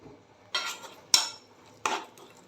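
Three separate close scraping strokes as grated raw mango is stirred in a pan over a gas flame, each a short, bright rasp against the pan with quiet pauses between.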